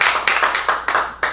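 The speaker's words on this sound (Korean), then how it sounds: "박수 한번 쳐주세요." A few people at a church committee meeting in New York clap briefly, about six distinct, fairly close claps in a loose rhythm, with no talking over them.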